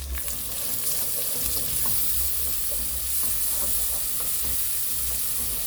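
Chopped garlic and ginger sizzling in a hot pan, a constant loud frying hiss with occasional stirring scrapes and crackles close up, no voices.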